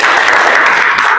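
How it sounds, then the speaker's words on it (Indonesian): A classroom of students applauds for Rehana, a dense burst of clapping that stays loud and even before cutting off. "tepuk tangan lo untuk Rehana"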